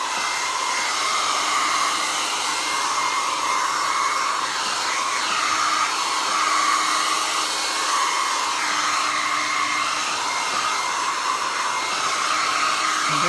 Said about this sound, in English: let's hit that with a blow dryer for a second